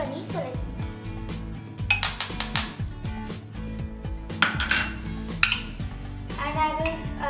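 Corn flour and paneer being mixed in a bowl, with a string of clinks and scrapes from metal utensils against dishes that come in bursts, some louder clatters in the middle.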